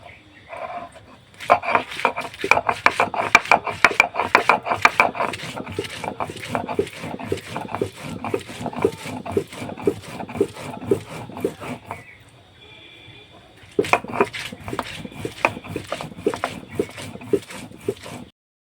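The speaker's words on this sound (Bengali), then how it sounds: "তো এখানে নিয়েছি শুকনো লঙ্কা, আদা, রসুন, তো এটা আমি শিলে বেটে নেব।" Dry chilli, ginger and garlic ground on a stone slab with a grinding stone, rapid rhythmic scraping strokes close by, pausing briefly before resuming at the same pace.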